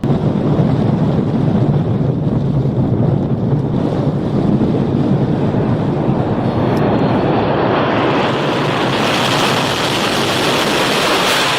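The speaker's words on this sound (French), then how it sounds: "C'est peut-être une situation d'urgence pour cet avion qui essaie d'atterrir sur le sol poussiéreux" A small homemade model airplane's propeller engine drones loudly and continuously, buffeted by wind rushing across the microphone, with the whine rising and brightening near the end as it tries to land on dusty ground.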